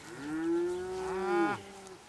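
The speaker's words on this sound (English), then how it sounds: "They're mooing." A cow lets out one long, close, drawn-out moo that falls away at the end, with quiet outdoor background after.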